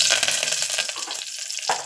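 Loud crackling sizzle of curry leaves hitting hot oil, bursting sharply at first and then settling into a steadier hiss.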